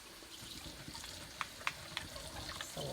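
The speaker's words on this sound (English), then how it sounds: "then we'll take and we'll start getting our berries washed" Tap water rinsing fresh strawberries for home-canned jam: a faint, steady trickle with a few soft splashes and drips.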